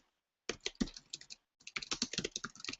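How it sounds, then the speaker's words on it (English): Quick bursts of keystrokes on a computer keyboard at close range, two runs of rapid typing split by a short pause, with no talking. "Oops, I got to type it right."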